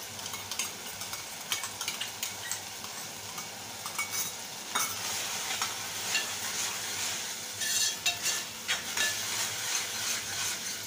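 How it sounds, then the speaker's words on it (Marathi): Spices and a ginger, garlic and coriander paste are sautéed in oil for kat vada, giving a continuous close sizzle with repeated scraping stirs against the pan. "सगळे मसाले असे तेल सुटेपर्यंत परतून घ्यायचे."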